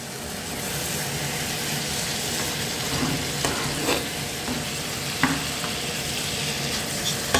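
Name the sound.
stir-frying baby spinach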